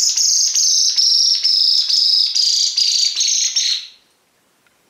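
A wooden decoy call for thrush, blown to imitate a wounded bird's cry, gives a run of loud, rapid, high-pitched chirping bursts in a steady rhythm, close by, then stops and leaves near silence.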